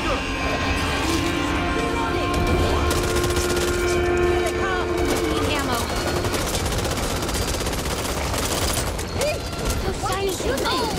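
Dense, continuous automatic gunfire rattles nonstop from shooting in the video game Back 4 Blood, layered with mechanical clatter and game effects, loud and close throughout.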